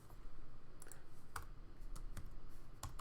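Quick irregular clicks of keys being typed on a computer keyboard, soft and close, with a few sharper taps standing out.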